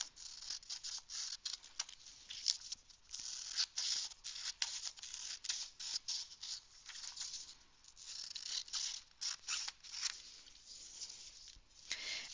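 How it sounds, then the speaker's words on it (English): Scissors snipping and trimming paper around the edges of a page for a school art journal, a steady run of quick, close, crisp cuts and rustles with brief pauses, no voices. "you're cutting around the edge and cutting off this excess"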